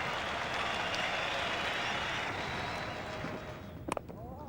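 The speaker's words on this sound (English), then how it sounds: "the applause is for the 100 partnership" A distant stadium crowd at a South Africa v England Test cricket match in Durban applauds in a steady, even wash of clapping that fades slightly near the end, where a brief sharp knock sounds.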